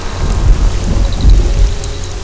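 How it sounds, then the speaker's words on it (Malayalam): Heavy rain pours down steadily while deep rolls of thunder rumble through a stormy evening, loud and continuous with low booming swells and no voices. "നന്നായിട്ട് ഇടിയും വെട്ടുന്നുണ്ട്."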